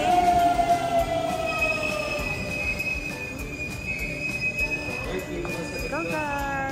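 An LRT-style train rolls past with sustained high-pitched wheel squeals that bend and waver over rumbling rail noise, fairly close. People talk over it.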